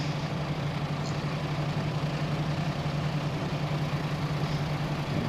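A farm vehicle engine idles steadily in Farming Simulator 25, a constant low droning hum with no change in pitch, heard alone at moderate volume.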